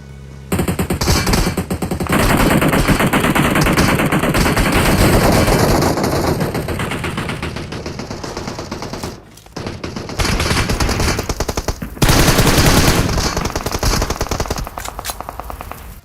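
Sustained rapid automatic gunfire in PUBG Mobile's final circle rattles almost nonstop, loud and dense, with overlapping bursts and a brief pause midway before the shooting resumes.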